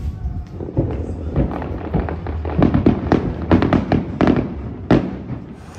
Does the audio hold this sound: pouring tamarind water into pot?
no